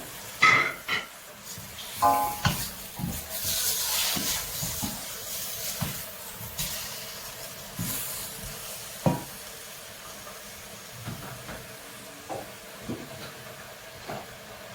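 Onion, garlic and tomato sautéing in a pan, a steady sizzle with irregular stirring clatters and scrapes throughout, fairly close and moderately loud.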